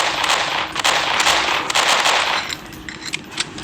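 Rapid bursts of gunfire in the horror video game Mother Bird, loud and close, rattling in quick clusters before thinning to scattered shots.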